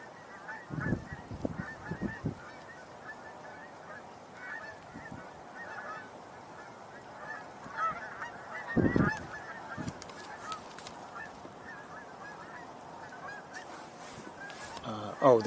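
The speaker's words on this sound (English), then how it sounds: "Here's some geese. Sounds like a lot of them." A flock of geese honks in repeated scattered calls, some nearer birds flying overhead and others farther off, with loud bursts of honking over a quiet outdoor background.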